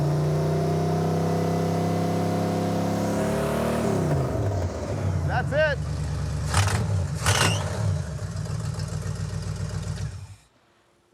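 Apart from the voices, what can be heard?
Super Camaro engine running and revving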